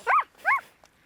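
Two quick yaps from a small dog, close and fairly loud, followed by a faint short sound, with no talking.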